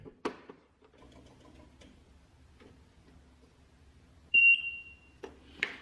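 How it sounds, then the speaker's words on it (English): A Greenworks 60V electric zero-turn riding mower gives a single clear electronic startup beep, a steady tone lasting about half a second, over a quiet low hum and a few faint clicks. "once it starts, you'll hear a beep there."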